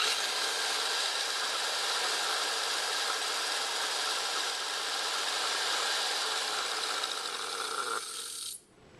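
A color disc spun rapidly gives a steady, loud whirring drone that holds evenly for about eight seconds, then quickly winds down and fades as it slows near the end.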